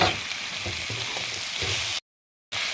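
Thinly sliced long strips of potato sizzle steadily in a hot pan, a continuous close crackling hiss with a brief silent gap near the end.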